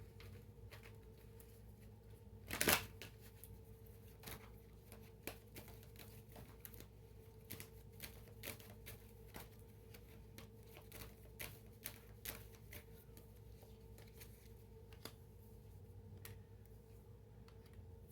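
Tarot cards are shuffled quietly, with soft scattered riffling taps and flicks continuing throughout and one sharper snap early on.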